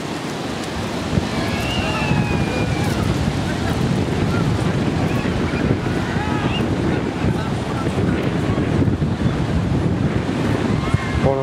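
Ocean waves wash onto a beach on a windy spring day, a continuous rumbling surf mixed with wind buffeting the microphone, with faint distant voices and chirps in the background.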